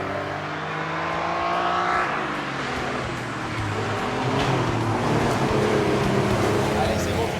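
A car engine drones steadily while driving on a French road, a loud continuous rumble with slight shifts in pitch as the car moves along, and occasional voices over it.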